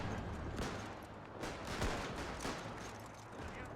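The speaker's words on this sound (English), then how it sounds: "Go on, get your machine guns firing." Rapid bursts of machine-gun fire crackle through a World War I battle scene in the strategy game Between Empires, sustained and overlapping with distant booms, fairly faint in the mix.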